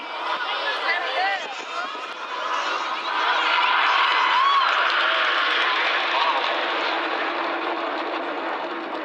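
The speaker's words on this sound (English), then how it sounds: "Pitching up over to the front left with some white smoke on is Red 6, who's the leader of our synchro pair." Red Arrows jets at the 2016 Clacton air display, with Red 6 pitching up trailing white smoke: a continuous distant roar of jet engines that swells after a few seconds and stays broad and steady under a commentator's voice.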